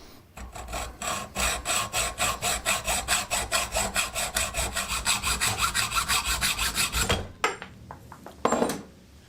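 A bicycle monostay tube for a homemade mountain bike frame is cut to length with a hand saw, giving steady rhythmic back-and-forth rasping strokes, fairly close and loud, ending with a few metallic clinks.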